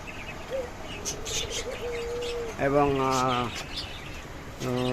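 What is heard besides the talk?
caged doves and cockatiels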